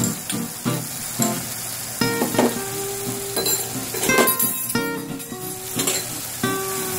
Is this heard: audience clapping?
no